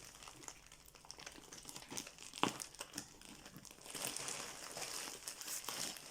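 Crinkly plastic packaging of a cross-stitch kit being opened and handled, a steady run of close crumpling and crinkling with occasional sharper crackles, growing denser and louder toward the end, with no voices.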